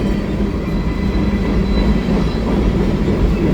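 A heavy mixed freight train rumbles past close by on a bike-path trackside at Pointe-aux-Trembles, a continuous loud roar of rolling wheels and rattling cars, steady throughout.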